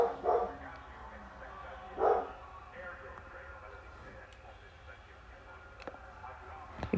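A dog barks indoors, two fairly faint woofs early on, set back in the room while a person sits nearby braiding hair.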